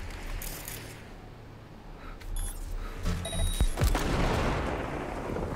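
Gunfire and explosive booms in Cyberpunk 2077: Phantom Liberty, loud heavy shots and blasts layered over a dense combat roar, with small electronic beeps mixed in.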